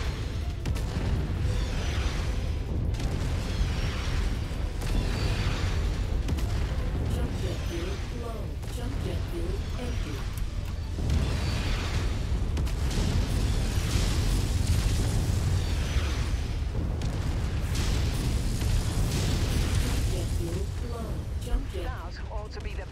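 Heavy weapons fire and booming explosions from battling mechs in MechWarrior 5, a dense, continuous barrage of blasts and rumbles with voices talking over it throughout.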